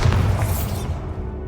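A Bombarda explosive spell in Hogwarts Legacy lets out a heavy, loud boom with a low thud and crackly burst that decays over a second and a half, heard alone.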